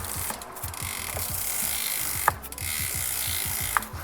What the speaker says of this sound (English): cleaning the top and the inside of the chain and the chainring while you can press it hard against the chainring